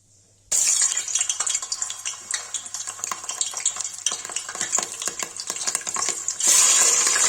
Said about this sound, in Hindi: गाइस मटन फ्राई के लिए रख दिया है